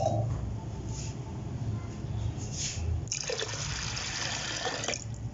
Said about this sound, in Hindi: तो इसमें 3 गिलास के करीब हम पानी डालेंगे।